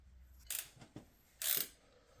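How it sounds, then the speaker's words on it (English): Torque wrench tightening ARP fasteners to 85 foot-pounds on the cylinder head of a 1963 GMC K1000: two sharp click-bursts about a second apart with small taps between, close and fairly quiet. "we're torquing these according to the ARP 85 foot-pounds"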